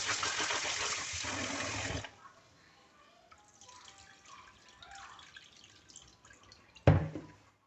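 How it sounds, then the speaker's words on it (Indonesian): Water runs steadily over soybeans being rinsed by hand for homemade tempeh, a loud bright splash for two seconds, then quiet trickles and drips, ending with one sharp splash. "Kalau kacang kedelainya udah kita kucek-kucek, terus kita bilas pakai air"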